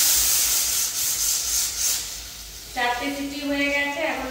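Pressure cooker whistling on a gas stove while rice cooks at home, a steady piercing steam whistle starting partway through and holding loud, nearby, over a background of hissing steam.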